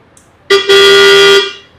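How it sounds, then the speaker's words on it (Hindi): Electric scooter horn with a sweet, melodic tone: one sustained, steady toot lasting about a second after a brief blip, loud and close, fading out cleanly with no talk. "अगर आप कहीं भी किसी को भी हॉर्न कर रहे हैं तो आप प्रॉपर एक बहुत ही कहते हैं ना स्वीट सा प्यारा सा आवाज"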